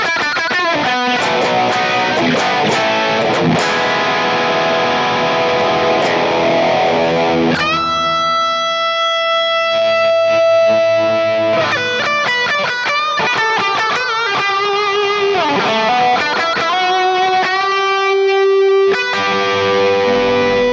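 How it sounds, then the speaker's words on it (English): A heavily distorted electric guitar through a BOSS GT-1000 Plexi/Brit stack amp model plays chugging riffs and sustained notes with bends, loud and saturated throughout, with no talking. "you can hear some extra distortion has come in"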